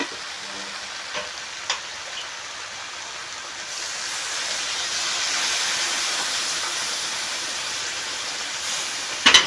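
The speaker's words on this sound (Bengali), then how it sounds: "এখন আমি সামান্য পরিমাণে একটু জল দিয়ে দেব।" Water goes into a pan of frying mixed vegetables, and a soft sizzle swells into a loud steady steaming hiss partway through, with a few light clinks near the end and no speech.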